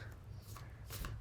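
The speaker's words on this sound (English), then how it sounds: "Let's shuffle for all signs." Tarot cards being shuffled by hand make soft, quick papery riffles and slides, close and fairly quiet, with no talking.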